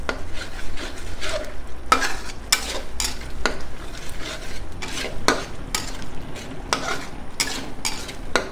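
A spoon stirs three spoonfuls of curry spice paste frying in a pot for beef curry, giving steady sizzling with repeated scraping strokes against the metal at a close, even pace and no talk.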